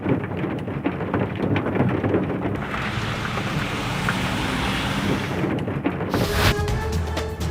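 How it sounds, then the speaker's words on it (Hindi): Heavy rain with hail in Chenab Nagar, Chiniot, a steady dense roar of falling water and impacts lasting throughout, loud and continuous with no voices. "चिन्योट के इलाके चनाब नगर में शदीद बारिश और यालाबारी, जाती सर्दी लौट आई।"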